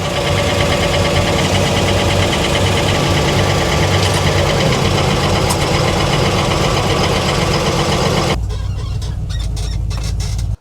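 A push-button-start car engine idles steadily up close with a rough, even drone, then drops abruptly to a quieter rumble near the end.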